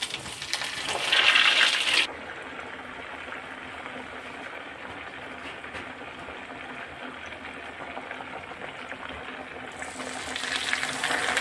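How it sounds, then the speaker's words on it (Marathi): Veg burger patties deep frying in hot oil, a steady dense bubbling hiss throughout, louder and brighter at the start and again near the end. "तर आपण असेच आता आपल्याला जेवढे लागतील तेवढे आपण आता तळून घेणार आहोत"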